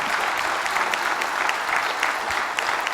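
An audience at a fintech show claps steadily for a few seconds, a dense, moderately loud burst of applause with no speech over it.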